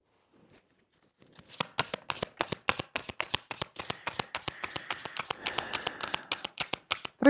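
Nature tarot deck being shuffled by hand, a long run of crisp, rhythmic riffling cards, close and clear, starting softly then steady throughout.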